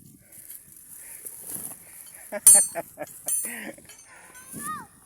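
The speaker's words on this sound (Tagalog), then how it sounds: "Dala-dala niya yung isang kambing." A goat carried in someone's arms on a farm gives short bleats among scattered farmyard noises, with a louder wavering cry near the end, fairly close, while a person talks in the background.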